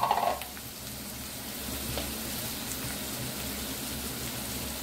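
Onions sautéing with salt in a pan for a Tamil-style fish curry, a faint, steady sizzle and crackle that holds at an even level after a brief clatter at the start, with no voices.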